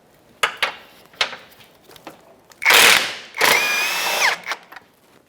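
Power tool spinning out a control arm mounting bolt on a 2014-2019 Toyota Corolla, heard as two close, loud whirring bursts of about a second each, the second with a rising whine, between scattered clanks of tools and parts.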